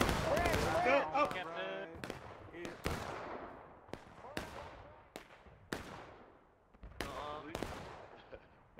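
Musket volleys and scattered rifle shots crack out in War of Rights, a Civil War battle, in a series of sharp reports spaced a second or so apart, with voices shouting over the gunfire.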